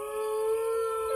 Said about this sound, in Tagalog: Natakot ka sa alulong ng mga aso?